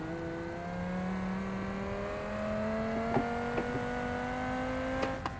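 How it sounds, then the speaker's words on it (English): Turbocharged car engine in a racing video game holding a steady drone under acceleration, with slowly rising harmonic pitch and a few faint clicks toward the end, without any voices. "as soon as I like put on the gas, the turbocharger kicks and I drift"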